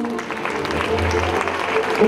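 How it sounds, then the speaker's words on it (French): Applause from guests at an evening charity party, thanking a participant; a dense, even patter of many hands clapping over crowd murmur, fairly loud and sustained throughout. "On l'applaudit très très fort."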